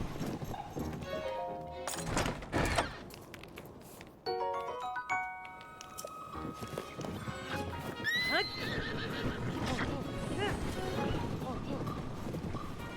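Hooves clip-clop and a horse whinnies loudly amid clattering sound effects in the video game Zelda: Tears of the Kingdom, with several overlapping tones and crashes throughout.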